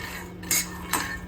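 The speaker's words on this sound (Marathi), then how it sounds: "तर आता इथे मी शेंगदाणे भाजायला घेतलेत" Peanuts being dry-roasted in a pan at home, with two brief scraping clinks of a spoon stirring them against the metal over a quiet background hum.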